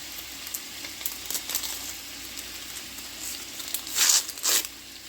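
Ground beef and chopped onion frying in a pan, a quiet steady sizzle with light scraping and stirring noises and a few louder crackling bursts near the end.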